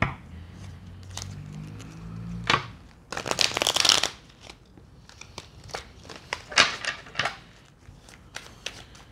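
Tarot cards being shuffled and handled up close, with a quiet low tone at first, then a dense riffling burst and several softer flicks and snaps in quiet surroundings.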